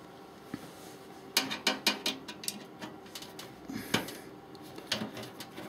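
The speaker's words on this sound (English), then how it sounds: "We just get a screw to lock it in place." A screw is driven in to lock a part inside a computer case, giving a run of sharp metallic clicks and ratcheting taps, loud and clustered mid-clip, then quieter scattered clicks.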